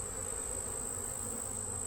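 Honey bees buzzing steadily at an open hive, with bees crawling on the cover. The hum is a dense, continuous drone close by, carrying on without a break and with no voices over it.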